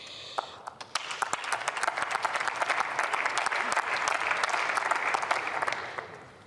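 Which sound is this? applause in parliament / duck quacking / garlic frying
applause in parliament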